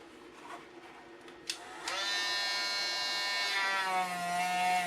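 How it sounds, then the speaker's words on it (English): A rotary grinding stone rounding the square edges of a leather purse, a steady high-pitched electric whir that rises in pitch and intensity as it bites into the edge, close and continuous with no voices. "Now I have basically a grinding stone."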